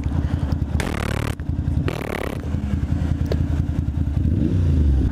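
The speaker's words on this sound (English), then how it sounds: "This guy's like revving his fucking car behind me." A loud engine rumbles nearby with two sharp revs rising over the low idle, a rough, throaty exhaust noise throughout.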